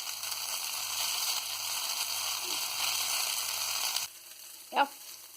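Vegan quinoa burgers sizzle steadily in a pan, a continuous hiss of frying that stops abruptly near the end, followed by a brief clatter.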